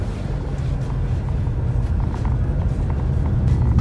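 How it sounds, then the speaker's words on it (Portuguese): A Jeep Renegade Moab diesel in sand mode with 4WD lock engaged holds low gears at high revs, giving a steady, droning engine rumble mixed with wind and road noise, with no talking. "Ele está usando marchas mais reduzidas, tanto que o giro está mais alto."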